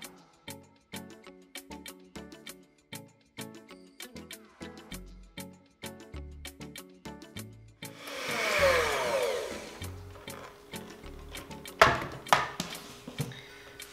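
A blender whizzes coconut cream with garlic powder and salt in a short, loud burst, following a run of steady rhythmic ticking, then a second brief burst near the end.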